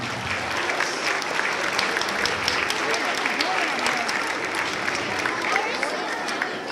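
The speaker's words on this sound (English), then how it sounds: "Let's give a great round of applause for him." An audience applauds at a school MLK concert, with steady, dense clapping that stays loud and sustained from start to finish.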